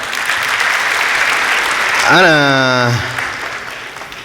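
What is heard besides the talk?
audience applause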